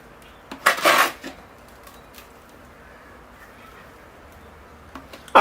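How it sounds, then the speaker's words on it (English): Sand poured as a top dressing onto a potted forsythia cutting, a brief gritty rattling rush near the start followed by faint scattered ticks and quiet room noise. "here I go with the top layer of sand."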